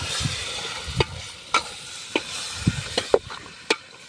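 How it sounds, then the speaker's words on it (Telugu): Chicken stirred and fried in a hot pan at a village feast cooking setup, with a soft sizzle under repeated sharp scrapes and knocks of a spoon against the pan, roughly one every half second. "మొత్తం చికెన్ అంటే వేసుకొని ఒకసారి మొత్తం కలుపుకోవాలి"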